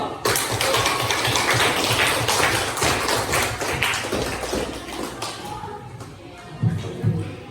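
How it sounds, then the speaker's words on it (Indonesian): Applause in a school classroom, a dense, steady patter of many hands clapping together at close range for several seconds, thinning out near the end with a few louder claps. "Oke, berikan aplaus dulu"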